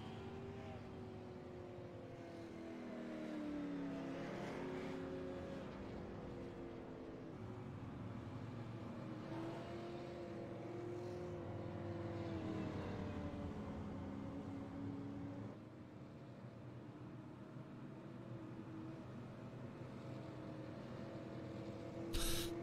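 Super late model race cars lapping the Milwaukee Mile, with engine drones rising and falling as cars pass at a distance, forming a faint, continuous roar throughout.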